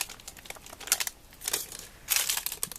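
Crinkly plastic of a Lego Movie 2 collectible minifigure packet being torn and crumpled open, several sharp bursts of rustling, close and loud, with no talking.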